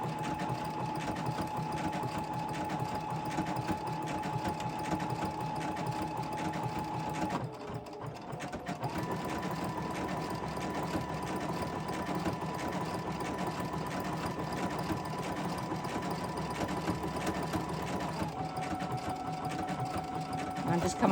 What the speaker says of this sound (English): the line is just so that I'll go straight down with my sewing machine